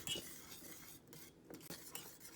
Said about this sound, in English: we can just whisk that gently until those melt